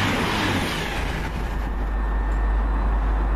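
Continuous loud rumbling roar of a passing Voyager passenger train at Hemel Hempstead, broad and steady throughout with deep low-end noise and no voices.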